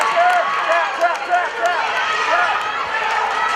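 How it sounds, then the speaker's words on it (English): Crowd noise at a girls' high school basketball game, a busy gym din of voices and shouts with sneaker squeaks and a commentator talking over it. "The crowd goes crazy."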